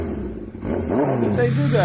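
Motorcycle engine revving in Tomb Raider, a mid-pitched motor that rises and falls in pitch across a couple of throttle swells, heard under a spoken voice.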